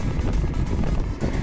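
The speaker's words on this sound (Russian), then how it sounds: "Слышали, как велик на бензиновом двигателе поехал?" A gasoline-engine bicycle passes close by, a rough buzzing motor drone that stays loud and steady through the short moment, with no voices.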